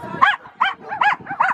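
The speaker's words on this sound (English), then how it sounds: "that's Abigail barking her head off, or Stella, one of them." A dog barks repeatedly in short, sharp bursts, fairly close, with brief pauses between barks.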